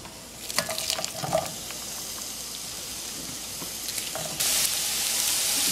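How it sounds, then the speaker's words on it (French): Sliced onions frying in oil in a pan for chicken biryani, a steady close sizzle with a few clinks and stirring sounds early on, growing slightly louder toward the end. "je vais y mettre mes oignons en lamelles. Et je vais faire cuire ces oignons jusqu'à ce qu'ils soient vraiment bien dorés."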